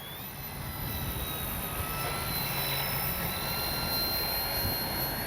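A steady, whining engine drone from an 850mm P-51D Mustang RC model plane flying at full speed on a windy day, sustained and fairly loud throughout without any voices.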